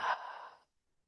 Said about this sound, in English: Take a deep breath in, hold the breath, exhale fully.